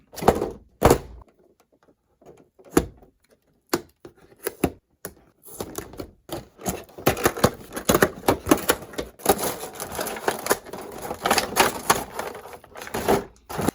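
Action figure packaging that is glued and taped shut gets ripped and pried open, with sharp tearing bursts, plastic clacks and thumps coming in quick irregular clusters that grow busier toward the end.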